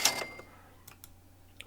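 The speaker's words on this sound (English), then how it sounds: "When you buy a car, you get a little cash register sound effect." A short cash register chime sounds when a car is bought in the drifting game Extreme Drift, a bright ring at the start followed by a few faint clicks.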